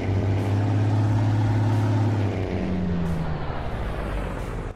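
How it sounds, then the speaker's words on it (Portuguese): Loud, close engine hum of a Mercedes HPN Series truck in Farming Simulator 22, a steady low drone whose pitch drops partway through as it settles, alone without talk. "Até o som do caminhão, ó."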